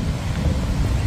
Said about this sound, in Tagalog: Ang lamig, ang lakas ng hangin, nakakaloka.